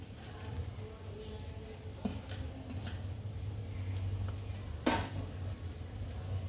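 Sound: cauliflower, carrot and capsicum frying in oil

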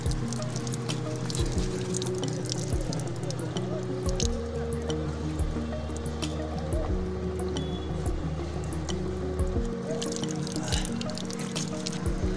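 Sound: cold water running from an opened tap

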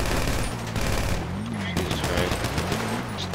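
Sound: gunfire from a hillside

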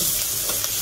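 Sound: meat frying in a pot

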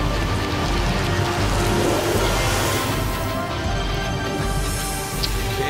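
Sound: rain spell cast from a scroll in Divinity Original Sin video game

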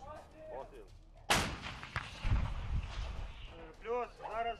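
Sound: self-propelled artillery gun firing a 122 mm shell

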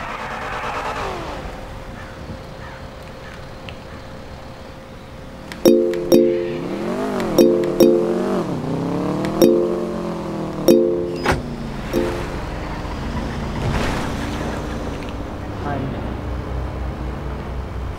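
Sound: motorcycle engine in a GTA roleplay video game

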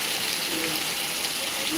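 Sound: heavy rain pouring, water gushing

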